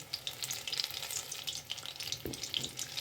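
Paneer pakoda sizzling in hot oil while being slowly turned over, a steady crackling fry with soft clinks and stirring noises close by.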